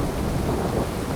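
A short burst of dense rain and low thunder rumble from a stormy scene in Skyrim Special Edition, loud and continuous with no talking.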